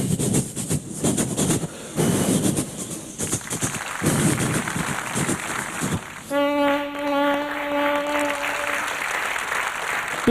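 A performer's voice imitates a train crossing a flyover bridge, a loud rumbling clatter followed by a drawn-out horn-like whistle, with audience applause mixed in.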